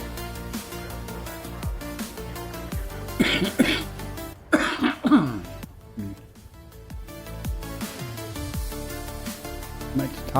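Several harsh coughs and throat clearing burst out close to the microphone during a live game stream, standing above soft background music with brief pauses between fits.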